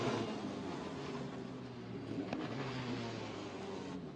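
Formula Renault race cars circulating behind the safety car at Spa-Francorchamps, giving a continuous moderate engine drone with a low steady hum and one brief sharp click midway.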